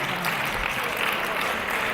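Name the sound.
audience applauding a wrestling move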